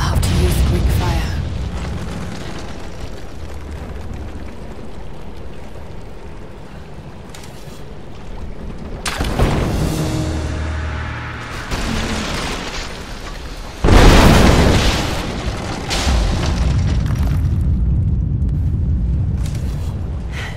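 Greek fire explodes in the flooded archives of Rise of the Tomb Raider: two heavy booming blasts several seconds apart rise out of a low rumbling ambience, with brief speech in between.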